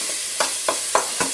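Crushed garlic sizzles in olive oil in a pan, a steady close hiss broken by four evenly spaced scraping stirs.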